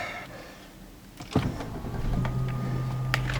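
A car engine turns over after a sharp click inside the cabin on a hot day, then settles into a steady low idle hum that continues to the end.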